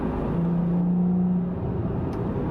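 A Porsche Boxster GTS drives along with a low, steady exhaust drone and rumble, fairly quiet and even, with a brief tonal whine partway through.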